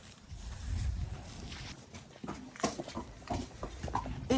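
A horse walks on a hard road, its hooves giving a faint, irregular clip-clop of soft knocks at a moderate distance, with some light rustling between steps.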